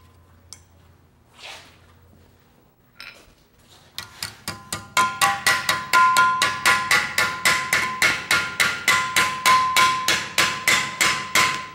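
A blacksmith hammering metal held in a vise to bend it down: after a few scattered knocks, a steady run of loud, ringing hammer blows falls at an even, brisk rhythm, close and sharp.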